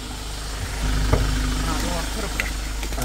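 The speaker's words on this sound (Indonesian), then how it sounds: "itu ada suara mobil truk" A truck engine idles with a low, steady rumble and vibration in Korea, while faint voices and background noise sit over it.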